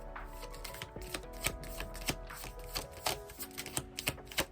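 Tarot cards are shuffled and riffled in a rapid series of crisp, close flicks and taps, loud and continuous throughout with no talking.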